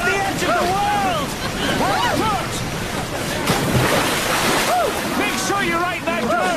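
A river thunders over a waterfall as a steady, close roar of churning water, with someone talking animatedly over the rush the whole time.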